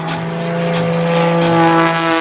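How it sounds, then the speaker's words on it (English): A propeller aerobatic airplane snap-rolls in a vertical climb during an air show performance, its engine a loud, steady droning buzz with a rising and falling pitch as it maneuvers, heard alone without talk. "Snap rolling the airplane in that vertical penetration."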